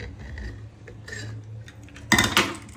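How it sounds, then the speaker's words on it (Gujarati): A cooled pressure cooker of masala khichdi being opened in a home kitchen, with a few close metallic clicks and clanks of the lid, ending in a louder burst of metal rattling. "હું હવે ખીચડીને કુકર ખોલીને જોઈ લઈશ"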